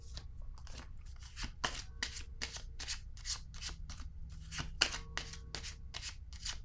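A deck of colored playing cards handled and shuffled up close: a quick run of crisp riffling and flicking bursts, steady and continuous, with no voices.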